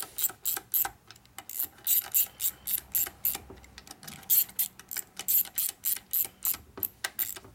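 Ratchet wrench clicking in quick repeated bursts while tightening engine bolts in a cross pattern on a 1942 Harley-Davidson WLA 45ci flathead motor, close and crisp, with short pauses between strokes and no talking.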